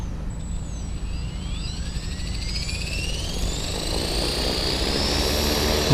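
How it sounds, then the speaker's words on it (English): An HK 450 RC helicopter motor spools up, its whine climbing steadily in pitch over several seconds as a rising rotor drone swells beneath it, growing louder and close by, with no talk. "So we'll spool it up in regular mode first."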